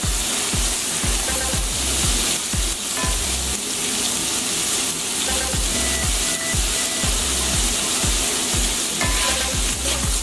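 Mushrooms sizzle loudly and continuously in a hot pan, a dense frying hiss broken by repeated scraping and stirring knocks, close up with no talking.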